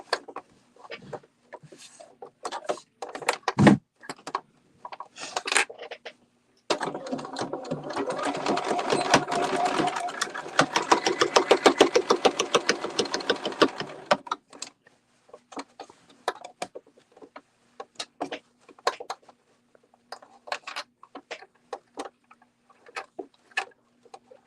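A domestic sewing machine runs one steady continuous burst of stitching across to secure the feet of a sewing project. Scattered clicks and handling noises come before and after it.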